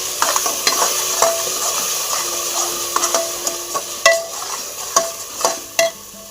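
Roasted ground masala being stirred into a hot pan, a continuous bright sizzle broken by repeated scraping strokes and spoon clinks, close up with no voices.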